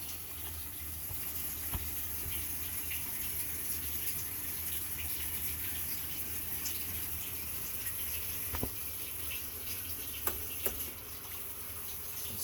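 A 2003 Whirlpool Gold Ultimate Care II direct-drive washer fills with water during its rinse cycle, giving a steady, fairly quiet rushing hiss that runs unbroken throughout, with a few faint clicks.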